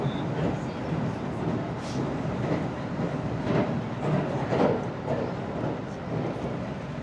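A Japanese local train runs on its rails, giving a steady, moderate rumble with soft clicks heard from inside the car and no talking.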